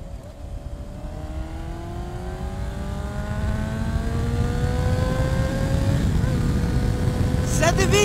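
Honda CBR 600 RR sport motorcycle accelerating through the gears on a city road, engine pitch climbing in repeated rising sweeps with brief drops at each shift, steady and close throughout.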